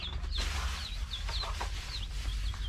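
Chickens newly bought to add to a backyard flock cluck in short, soft, repeated calls close by over a steady low hum, with no talking.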